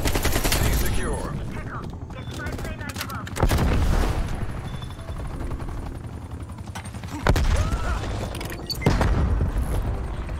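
The new Iron Curtain AK-47 fires in Black Ops Cold War, with loud bursts of automatic gunfire at several points amid constant battlefield noise and occasional talk.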